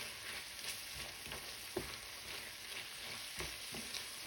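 Vegetables sizzle steadily in a pan during stir-frying, a continuous quiet frying hiss broken by a few light stirring knocks.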